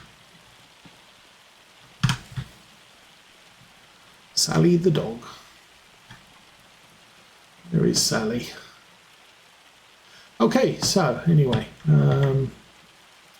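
Steady hailstorm hiss and patter in Farming Simulator 25 on a Missouri farm, a constant wash of noise that continues beneath intermittent short bursts of someone talking.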